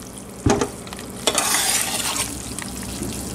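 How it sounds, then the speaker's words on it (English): Goat tallow rendering in an Instant Pot set to low, a steady frying sizzle and bubbling hiss with a couple of sharp stirring clanks near the start, close and fairly loud throughout. "It's pretty much boiling."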